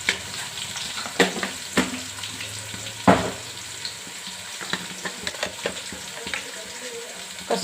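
Puffed rice (muramura) frying in a pan with salt and turmeric gives a steady soft sizzle, broken by sharp scraping and tapping as it is stirred, with no voices.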